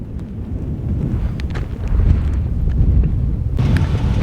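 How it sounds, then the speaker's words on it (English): Steady wind buffets the microphone with a low, rumbling roar that swells partway through and stays loud, with no voices. "Bit windy today."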